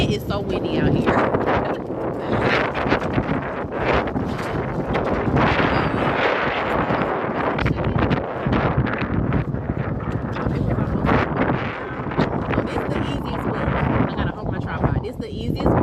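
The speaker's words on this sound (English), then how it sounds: "It is so windy out here." Strong gusts buffet the microphone continuously, a rough roaring rumble outdoors, loud and unbroken throughout, with a voice speaking underneath.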